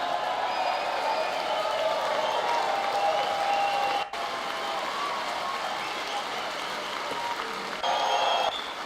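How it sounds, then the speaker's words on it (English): A large audience at the State of the Union applauds in a continuous, steady roar of clapping and crowd noise, briefly dipping midway before swelling again. "Lot of clapping."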